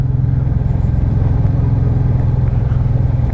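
A motorcycle rides along a narrow country road near Eyam, its engine giving a steady low rumble that stays close and loud throughout with no talking.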